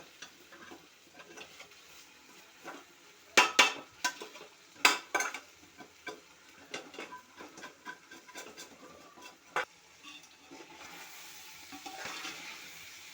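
Fried kebab-style chicken pieces are tipped into a biryani pot, giving a run of sharp clattering thuds and scrapes against the metal, then a soft rising sizzle and rustle near the end.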